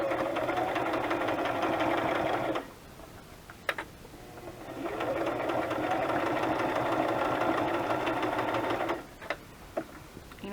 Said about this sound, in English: put your needle up or you'll break it. Okay, straight stitch I think.